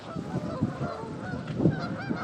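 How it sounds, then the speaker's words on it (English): A dense flock of geese honking and calling over one another on a Lake Ontario shore at Fair Haven, New York, nearby and continuous, with no talking. "There's a gazillion birds."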